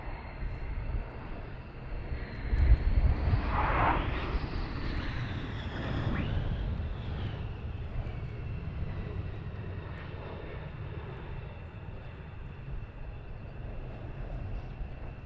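F-15 jet engines spooling up at RAF Lakenheath, a steady broad roar with a high whine that swells around the third to sixth second, then holds as a sustained, moderately distant rumble.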